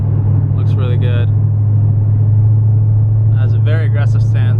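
A lowered Dodge Challenger rumbles by with a deep, steady engine drone that stays loud throughout, while someone speaks briefly over it.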